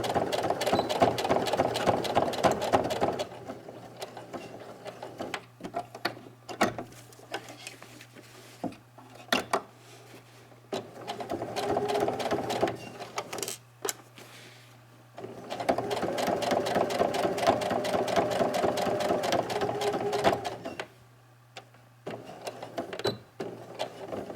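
A sewing machine stitches a pleated fabric face mask in several rapid, rattling bursts separated by short pauses and small handling clicks, close and moderately quiet.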